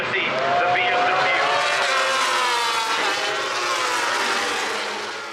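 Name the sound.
BMW race motorcycle passing on front straightaway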